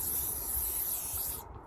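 Sunblock spray hisses onto skin in one continuous close burst of about a second and a half, then cuts off abruptly.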